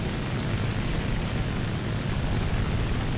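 A propeller fighter plane's engine drones steadily in the War Thunder combat game, a loud, continuous broadband roar filling the whole stretch with no pauses and no talk over it.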